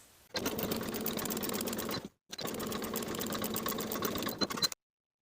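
A sewing machine stitches a sleeve cuff seam in two fast, steady runs of buzzing mechanical chatter, separated by a short pause, and then stops abruptly.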